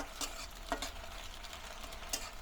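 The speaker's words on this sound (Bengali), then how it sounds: "ডিমগুলো আমি এরকম ছোট ছোট টুকরা করে একটু লাল লাল করে ভেজে নিব" Small chopped pieces of egg fry in oil in a kadai, giving a soft, quiet sizzle broken by a few light stirring scrapes.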